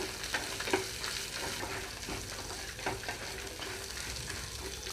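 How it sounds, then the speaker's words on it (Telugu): Onions fry in a pan with spices for a Telugu bottle gourd curd curry, a steady close sizzle broken by a few soft stirring scrapes, with no voices. "ఇవి వేగేటప్పుడే ఇక్కడ ఉల్లిపాయలు కూడా వేస్తున్నాను"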